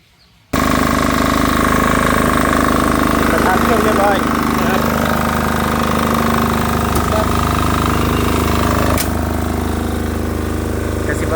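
A 5.5 kW power generator engine starts up after a brief quiet moment and settles into a loud, steady running drone, with someone talking over it.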